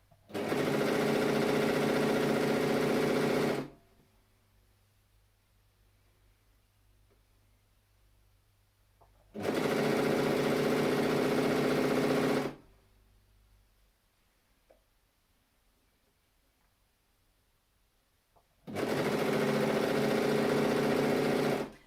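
A sewing machine runs in three steady bursts of about three seconds each, stitching a straight seam on a stretch fabric scrap headband with a 6mm seam allowance, with quiet pauses between runs.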